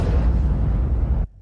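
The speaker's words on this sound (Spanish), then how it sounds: "se escuchó una explosión." A bomb explodes aboard a Boeing 727 airliner in flight, a loud, dense roaring blast that holds for over a second and then cuts off abruptly, with no voices.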